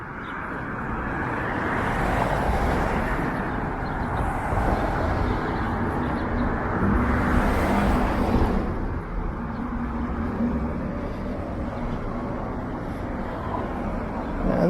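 Steady automobile traffic on Weston Road heading south from Jane Street through Mount Dennis, a continuous broadband wash of passing cars at moderate distance, swelling briefly around the middle, with no voices.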